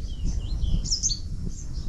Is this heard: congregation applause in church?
no